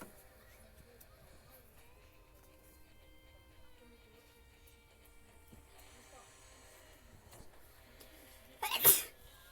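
A single sharp sneeze bursts out near the end, loud and close, after a stretch of quiet indoor room sound with faint background murmur.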